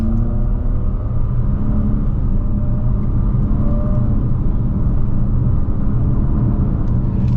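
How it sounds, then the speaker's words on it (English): A 2024 Infiniti QX50 Sport AWD with a variable compression four-cylinder, in sport mode, pulls away under acceleration; a loud, steady engine drone and road rumble run evenly through the whole stretch. "this variable compression 4-cylinder just takes off really, really well"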